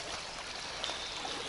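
After heavy rains a forest stream flows in a steady, soft, even rush of water, continuous and fairly quiet with no voices.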